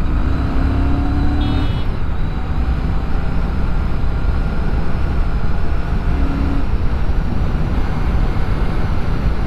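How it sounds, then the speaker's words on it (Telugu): Royal Enfield Shotgun 650 motorcycle accelerating in third gear from about 40 km/h, a loud continuous engine drone mixed with heavy wind rush, with no talk throughout. "ఇప్పుడు చూడండి, థర్డ్ గేర్లో ఉంది, 40 స్పీడ్లో ఉంది. థ్రాటిల్ రెస్పాన్స్ ఇస్తే"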